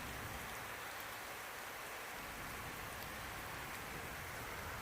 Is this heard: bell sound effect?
no